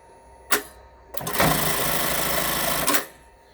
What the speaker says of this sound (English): all the way down with my foot pedal to run our seam